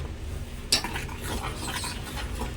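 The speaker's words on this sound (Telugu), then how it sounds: "ఇంకా దగ్గరికి అయ్యేంత వరకు అయితే ఇలా మిక్స్ చేసుకుంటూ కలుపుకోవాలి, అడుగంటనివ్వకుండా." A spoon scrapes around a pan of thickening custard milk, with one sharp clink at the start followed by steady soft stirring and faint bubbling close by. No voices.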